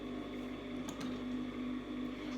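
A domestic sewing machine stitches the pleats of a cloth face mask, giving a steady, continuous motor hum with a faint rapid needle rattle, close and uninterrupted, with no talk.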